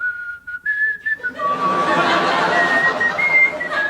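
A person whistles a wavering, sliding tone imitating an arrow whizzing past, with soft chuckling and chatter underneath.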